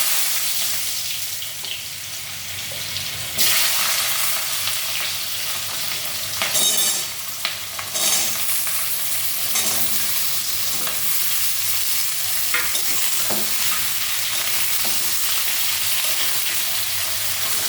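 Vegetables for a homemade healthy curry fry in a hot pan, a dense, loud, continuous sizzle with scraping stirring strokes and brief bursts of louder crackling, close up and without talking.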